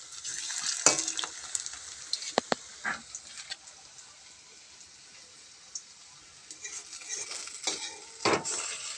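Food fries in hot oil in a home kitchen, a soft continuous sizzle broken by sharp scraping stirs and clinks of a utensil against the pan.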